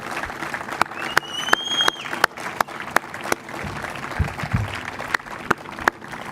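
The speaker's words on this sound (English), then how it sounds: "if you could please give your family and friends a round of applause for the support that they've given you" Firefighter academy graduates applaud their families and friends with steady, fairly loud clapping, sharp individual claps standing out over a continuous crowd patter, with some low rumbling movement in the room.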